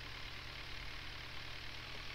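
A heavy machine's engine idles steadily in the Giant Machines 2017 video game, a continuous low rumble with a broad hiss above it, moderately loud and unchanging throughout with no talk.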